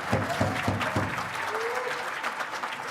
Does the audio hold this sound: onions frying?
no